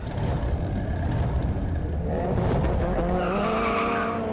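A rusty Mitsubishi Evo 8 races around a dirt track, its engine roaring loudly and steadily while the tires skid and squeal on the loose surface.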